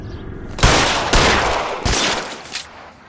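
Gunshots in the video game L.A. Noire: three loud, close shots spaced roughly half a second apart, each with a lingering echoing tail.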